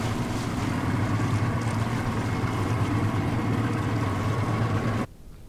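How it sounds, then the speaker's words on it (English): A boat driven by Ken Martin breaking a path through lake ice toward a stranded engine, a steady low engine drone with a grinding wash that holds evenly for five seconds and then drops off abruptly. "The first boat, operated by Ken Martin, is leaving the launch and starting to cut the path to the engine."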